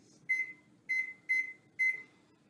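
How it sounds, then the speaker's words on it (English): An oven timer gives four short, clear electronic beeps, evenly spaced about half a second apart, close by in a quiet kitchen with a faint low hum underneath. "We're going to set the timer for 30 minutes."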